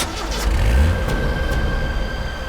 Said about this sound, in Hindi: गाड़ी चला, निकल यहां से।